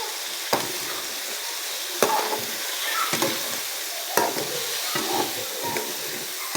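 Mushrooms sizzle in a pan for a budget spaghetti sauce while a spoon stirs them, giving bright, crackling frying broken by regular scraping strokes about once a second, close and clear with no talking.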